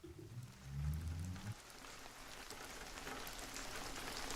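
Steady rain falling during a thunderstorm, a faint, even hiss throughout, with a low rumbling sound in the first second and a half.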